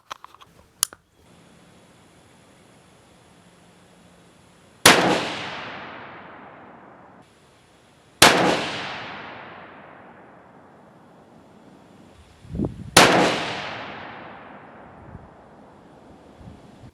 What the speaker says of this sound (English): We're going to fire some groups real quick